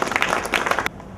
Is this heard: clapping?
yes